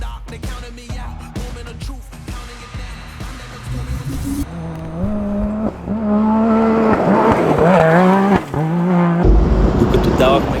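A UTV stuck in deep snow revs its engine in rising, wavering surges that grow louder and more strained toward the end, with people talking over the noise.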